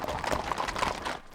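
Hooves of a horse herd on the move, picking up pace on a long drive, make a brief, dense clatter of overlapping clip-clops close by.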